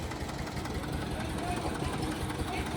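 HMT 2511 tractor engine idling steadily while running a slab concrete mixing machine, a continuous close mechanical drone that holds even throughout, with no pauses or spoken words in it.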